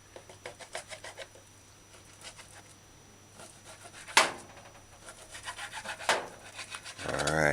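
A knife saws through raw beef with repeated soft rasping strokes, near and fairly quiet, ending with a couple of sharper scraping cuts against the board.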